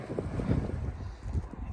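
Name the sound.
wind blowing outdoors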